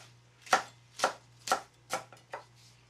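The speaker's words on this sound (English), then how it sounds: "So I'm going to chop this one up a little bit," A knife chops chard on a cutting board in five crisp, evenly spaced strokes, close up and with no talking over them.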